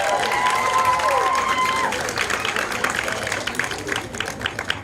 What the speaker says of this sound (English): Round of applause for PFA,